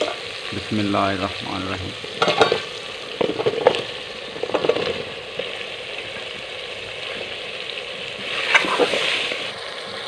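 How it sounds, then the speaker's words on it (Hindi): Potatoes fry and crackle in a cooked masala for aloo mongray, with scraping stirs and a short spoken phrase near the start. "अब हम इसमें आलू डालकर थोड़ी देर के लिए भून लेंगे इसको।"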